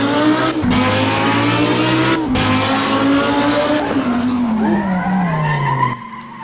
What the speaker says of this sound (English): I just brake a little, the car starts sliding